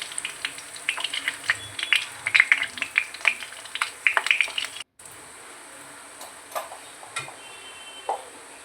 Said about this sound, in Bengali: তারপর পেঁয়াজগুলি এর মধ্যে দিয়ে লাল লাল করে ভেজে নেব।